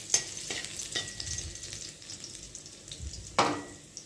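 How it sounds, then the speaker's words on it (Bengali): Chopped garlic, about eight spoonfuls, frying in hot oil for chicken momo, giving a steady, soft sizzle with a few sharper clicks and scrapes from stirring up close. "আমার তেলটা গরম হয়ে গেছে, 8 চামচের মতন রসুন কুচি দিয়ে দিচ্ছি।"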